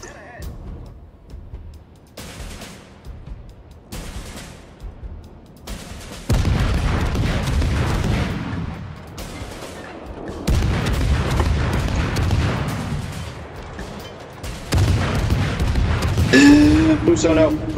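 Naval guns in the World of Warships video game fire loud, booming salvos in three spaced bursts, each followed by rumbling shell fire. Players talk excitedly between and over the shots.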